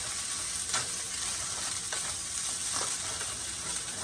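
Spam and kimchi fried rice stirred in a pan over very high heat, a steady close sizzle with a few scraping strokes of the utensil, no voices.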